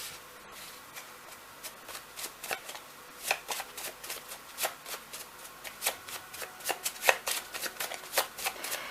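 Tarot cards being shuffled by hand in a steady run of crisp riffling snaps, close and fairly quiet, with no voices over it.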